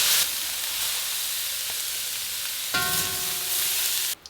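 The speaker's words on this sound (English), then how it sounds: "we've got our broccoli stir fry with oyster mushroom and mung bean" Broccoli, oyster mushroom and mung bean stir fry cooking in a pan, a loud steady sizzle and hiss that swells briefly midway and cuts off abruptly at the end.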